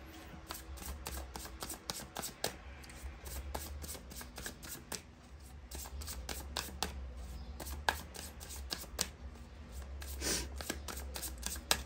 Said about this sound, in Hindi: इस डेक से भी निकालते हैं कार्ड्स